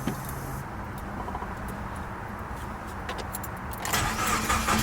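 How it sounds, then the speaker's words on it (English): A Subaru WRX with a new tune cranks and fires up near the end, the engine catching with a rising roar after a steady low mechanical hum; no talking. "We'll go ahead and turn the car on now."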